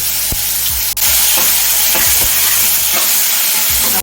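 Cumin seeds and a small tomato sizzle loudly in hot frying oil left from frying pabda fish, a constant close crackling hiss broken by repeated scraping stirs of a spatula in the pan.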